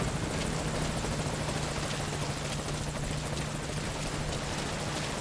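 Helicopter in Metal Gear Solid V: Ground Zeroes, a steady close rotor drone with a constant low hum and rapid blade chop that continues unchanged throughout, with no voices.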